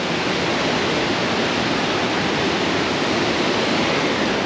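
A powerful waterfall at the 4000 Islands in Laos roars as a dense, constant rush of crashing water, loud and close with no breaks or voices.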